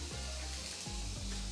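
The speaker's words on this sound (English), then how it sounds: "Good sizzle." Steady, hissing sizzle of a smashburger beef patty frying in a hot pan, continuous and close, with light scraping noises.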